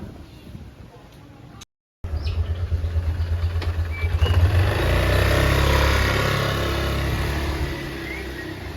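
A motorcycle engine runs near a closed school gate, a steady mid-pitched drone that swells and holds loud after a brief gap, with people talking over it.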